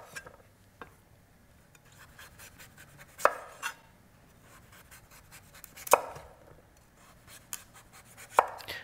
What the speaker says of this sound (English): I dig the knife in where the skin meets the flesh.